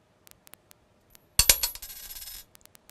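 Two coins tossed together in a classroom probability demonstration land with a sharp metallic clatter and a short ringing spin that fades out after about a second, with light taps before and after.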